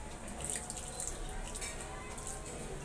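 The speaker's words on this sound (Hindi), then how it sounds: "और थोड़ा सा पानी डालेंगे मिक्सी के दाल में" Water is poured into moong dal in a mixer grinder jar, a steady soft trickle heard close by throughout.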